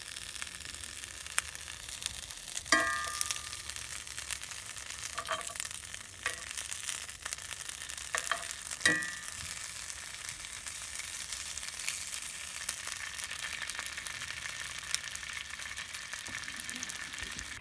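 Quinoa boiling in an overfilled pot of water at a winter campsite on a frozen river, giving a continuous close bubbling hiss with a few sharp clinks and taps scattered through it.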